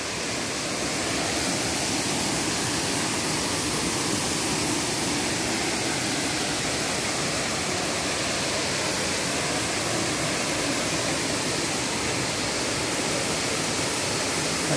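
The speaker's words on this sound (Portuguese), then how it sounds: "Com esse barulhinho das águas." Cachoeira do Cipó waterfall in Guaramiranga, Ceará, roars with a dense, constant rush of falling water, loud and unbroken, with no voices.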